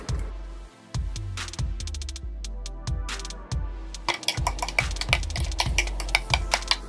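A spoon scrapes and knocks steadily against a pan while macaroni is stirred with evaporated milk and cheese, giving a regular series of metallic clinks and scrapes, close and clear, with no talking.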